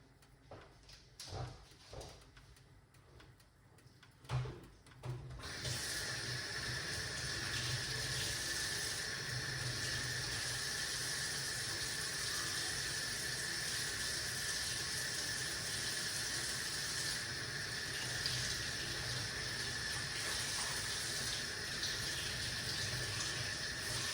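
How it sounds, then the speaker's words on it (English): Drink ingredients rinsed under a running kitchen tap, a steady rushing stream of water starting after a few seconds of handling clatter and continuing loudly and evenly, close by, with no talking. "So let's wash off these ingredients."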